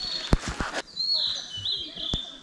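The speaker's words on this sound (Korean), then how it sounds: "너무 이쁘다 새소리." Forest birds sing on a hiking trail, high thin whistled chirps and trills at a moderate distance, broken by a few sharp close clicks and rustles.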